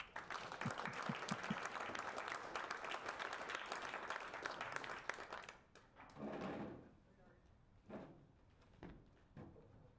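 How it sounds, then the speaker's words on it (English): Meetup audience applauding a talk on 1-bit large language models, dense clapping for about five seconds that fades out, followed by scattered faint sounds and brief talk. "please give Dimitri a round of applause."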